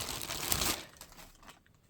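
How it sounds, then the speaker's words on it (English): A large plastic bag from air pistol packaging crinkles and rustles up close in dense bursts, loudest early, then thinning out to sparse faint crackles. "It's a big plastic bag."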